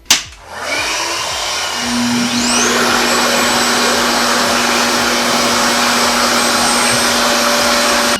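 Loud, steady whirring of a RevAir suction hair dryer brush set at 4 running continuously close up, a constant airy motor drone with a faint high whine, no talking.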